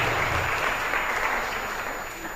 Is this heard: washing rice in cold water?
no